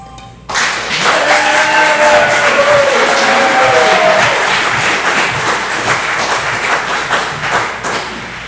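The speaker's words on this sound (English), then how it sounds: "So as we're clapping, I still want you all to realize that there's still a lot of work ahead" Audience at a regular board of commissioners meeting breaking into sustained applause after a vote carries, a dense, loud wash of clapping starting abruptly and continuing steadily, with brief voices heard at the very start.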